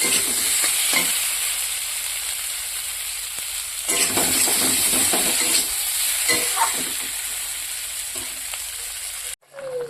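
Ground chilli, cumin and ginger paste frying in oil for a fish curry, a steady loud sizzle with occasional stirring scrapes and clinks, no talking.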